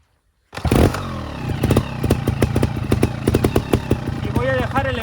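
Dirt motorcycle idling then moving forward over rocks as the clutch is let out, engine clattering and pulsing steadily and up close, with a rider talking over it.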